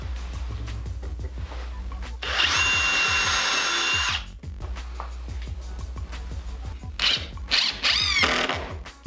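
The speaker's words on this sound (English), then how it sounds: "I'm gonna pre-drill some holes so I don't split it." A power drill whirs in a couple of sustained bursts, pre-drilling holes in wood, speeding up and slowing down, with ratcheting clicks and a steady low hum underneath.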